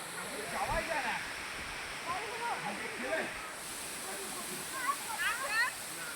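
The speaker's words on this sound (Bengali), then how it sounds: "ঝর্ণার শব্দ মনে হয় যে সব কষ্ট দূর করে দেয়" A waterfall on a hill-stream trekking trail at Mirsarai pours with a steady broadband rush throughout, while excited voices talk and exclaim over it.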